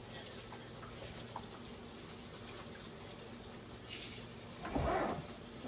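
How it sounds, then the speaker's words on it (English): Green beans are rinsed under a running tap, a steady wash of water with a brief louder splash near the end. "we're going to wash our green beans. Rinse these off."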